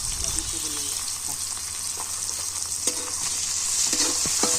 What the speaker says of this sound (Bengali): এবারে পেঁয়াজ কুচিগুলো দিয়ে দিলাম